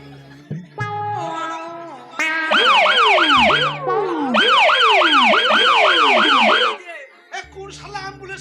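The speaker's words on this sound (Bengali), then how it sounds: "কোন শালা অ্যাম্বুলেন্সকে খবর দিলে" Ambulance siren wailing loudly and close in a rising and falling pattern for several seconds, with voices and a cat-like call before and after.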